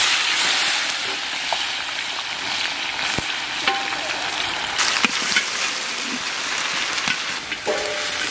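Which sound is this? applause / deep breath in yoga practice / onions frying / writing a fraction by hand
onions frying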